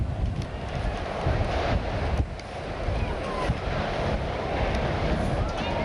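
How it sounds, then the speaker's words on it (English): Strong wind buffets the microphone at an outdoor high school track meet in 1999, a loud, continuous low roar with gusty surges that swell and dip throughout. "That wind is really sounding."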